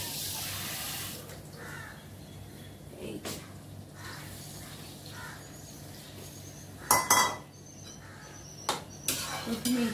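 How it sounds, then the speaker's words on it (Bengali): Tap water runs into a kitchen sink during home cooking, with clinks of metal utensils and dishes, a few sharp knocks and a voice speaking in the background. "জল অ্যাড করতে হবে।"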